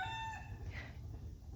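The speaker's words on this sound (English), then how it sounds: "The rooster says good morning too." A rooster crows on a garden morning, its drawn-out call fading from near to softer, over a low steady background hum.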